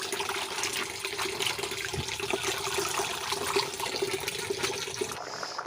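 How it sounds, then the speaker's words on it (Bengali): Leafy greens being washed by hand in water, with steady splashing and running water close by throughout, no talk. "ওই জন্য সবসময় শাকটা অনেকবার ধুয়ে নিই, তারপরেই রান্না করি।"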